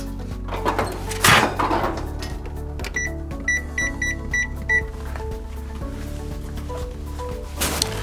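An oven door clunks open and shut as foil-wrapped tortillas go into a home kitchen oven, with a short run of electronic beeps in between and a few handling knocks; no talk.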